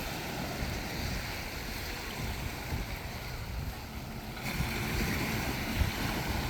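Seawater washes around someone wading at the shore on Grand Turk, with a soft, continuous wash of small waves and wind close by.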